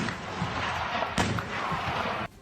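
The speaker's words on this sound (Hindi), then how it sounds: "एक एक करके कई तोप से गोले छोड़े गए जिनके धमाकों से पूरा इलाका थर्रा उठा" Artillery cannons fire shells in the Russia–Ukraine war, a sustained rumbling roar with a sharp boom partway through, loud and close, ending abruptly.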